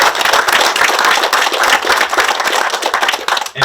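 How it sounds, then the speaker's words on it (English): Dense crowd applause at a manufacturing plant grand opening event, loud and close, with many hands clapping continuously before it thins out at the very end. "I think we need to give her a round of applause."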